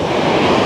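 Ocean surf washes onto a beach at a birding state park in Florida, a loud, continuous broadband roar with wind buffeting the microphone.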